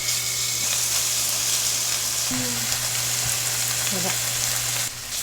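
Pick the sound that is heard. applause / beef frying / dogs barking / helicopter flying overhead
beef frying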